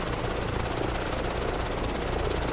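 A simulated helicopter in Microsoft Flight Simulator 2024 flies near a stadium with a steady, loud, dense rotor and engine roar that stays constant throughout, with no voices.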